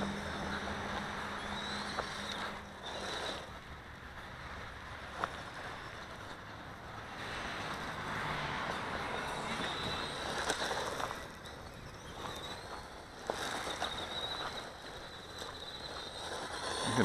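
A LaTrax Teton four-wheel-drive RC truck tears across gravel with a steady, broadband crunching roar of tires on loose stones, rising and dipping with its speed and staying loud throughout.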